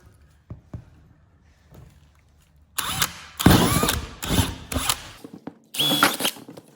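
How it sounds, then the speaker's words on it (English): A power drill fitted with a hole saw bores air holes in a wooden turkey transport box: a quiet lead-in, then several loud grinding bursts of cutting with brief pauses between them, close up. "our next step is to drill our air holes"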